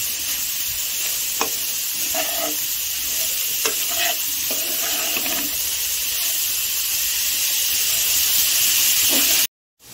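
Grated cauliflower sizzles and hisses steadily in a frying pan, with intermittent scraping strokes of stirring breaking through the continuous fry; no voices.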